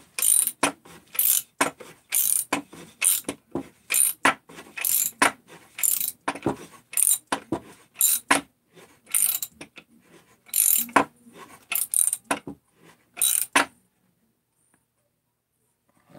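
A crank mechanism is wound down with loud, close ratcheting clicks in short uneven bursts, then stops for the final few seconds.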